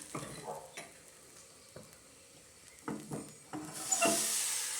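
Appam batter swirling in a pan and cooking with a soft sizzle, broken by a few separate scraping stir sounds and a louder hiss toward the end, with no talk.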